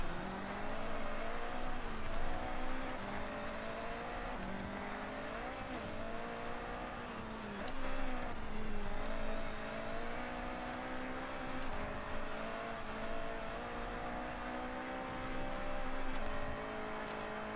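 Race car engine in a racing video game drones steadily at high revs, with shifting pitch, brief surges of acceleration and occasional tire squeal, continuous and fairly loud with no talk.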